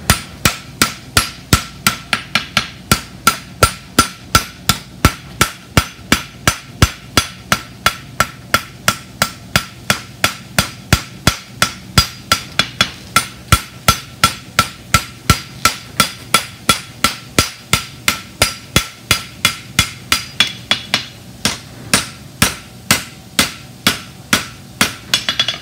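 Steady hammer blows on hot metal at a forge, shaping horseshoe heels, ring out in a fast even rhythm of dozens of sharp close strikes with brief pauses, loud and alone without talk.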